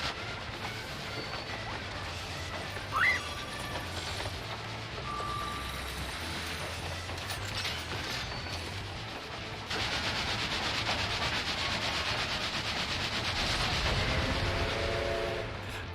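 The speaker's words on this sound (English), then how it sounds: "The opponent appears to be a train." The Ghost Train boss in Final Fantasy XIV approaches with a steady rolling, grinding rumble of a train, which grows louder and brighter partway through and stays heavy to the end.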